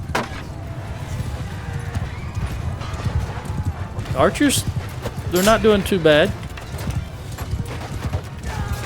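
Horses gallop across a battlefield in Mount & Blade II: Bannerlord with a dense, rapid clatter of hooves and occasional whinnies, while someone talks over the action.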